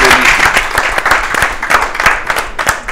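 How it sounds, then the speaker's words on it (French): An audience at a stage show claps in a dense, bright burst of applause that fills the full three seconds and stays close and loud. "on applaudit, on applaudit."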